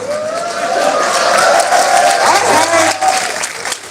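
An audience claps in a dense, sustained patter while a voice carries on over the top of it.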